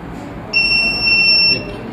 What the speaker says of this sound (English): You will get a buzzer for theft